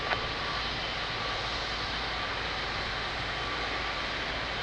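An Air Transat A330 airliner at Lisbon Airport produces a steady, broad engine roar that holds at an even level throughout, heard from a moderate distance with no voices.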